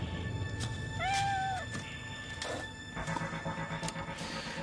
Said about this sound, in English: nobody heard the cat meowing